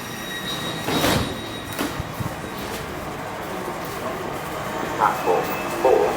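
A four-coach Southeastern train moves through Bromley South station, a steady rail rumble with squealing wheels and occasional clunks, heard at moderate distance.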